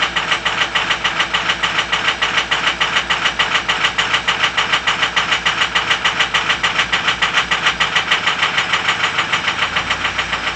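A 2005 Ford F250 Crew Cab XLT with a Powerstroke diesel engine idles in 24-degree cold, a loud, close, steady rhythmic clatter with even pulsing knocks throughout.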